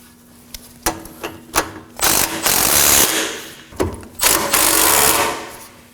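A ratchet with a 17mm socket tightens sway bar link nuts on a 2014-2020 Acura MDX, with a few separate sharp clicks followed by bursts of rapid, grinding ratcheting.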